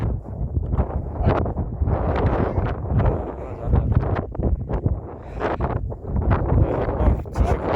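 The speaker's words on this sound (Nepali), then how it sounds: "हावा आछ क्या लडाउला फेरि फाल्ला" Strong, cold wind gusts on a mountain ridge buffet the microphone, a loud rumbling roar that surges and dips without pause.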